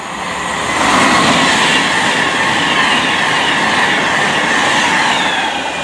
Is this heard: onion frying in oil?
no